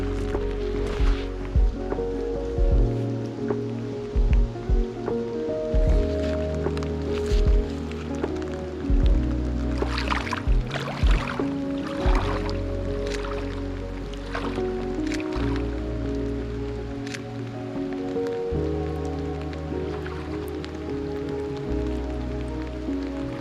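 Slow sloshing and splashing of lake water as someone wades in, in the rain, with intermittent drips and swishes, close by over a steady low hum.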